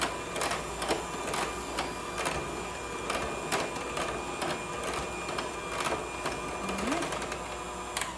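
KitchenAid stand mixer beating a creamy ice cream mixture, a steady mechanical whir with rhythmic clicking pulses running continuously and fairly close throughout, no voices.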